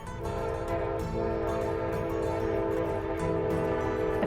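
A train horn sounds in long steady blasts, with the rumble of a passing train close by a small-town general store set right beside the railroad tracks; loud and continuous throughout, no talking.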